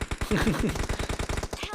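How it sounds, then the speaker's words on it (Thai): Rapid bursts of automatic gunfire from PUBG Mobile crackle in quick succession, a steady rattling rhythm, while a voice speaks briefly over the shots. "เสียงปืนมาแล้ว"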